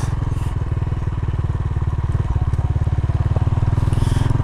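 A motorcycle engine chugs steadily and loudly up close while climbing a steep, dry, slippery slope in San Jose, Tarlac, its rapid regular pulses straining under load, with faint clatter in the background.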